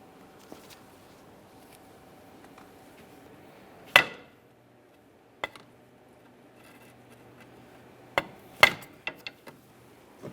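A hammer taps a pry bar to break a steering rack clamp free on a 2013-2020 Ford Fusion. There are a few sharp metallic strikes, one alone and then a quick cluster near the end, over a quiet background.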